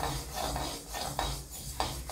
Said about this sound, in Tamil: இப்போ நம்ம அந்த கருப்பு உளுந்து வறுத்துட்ருக்கோம்.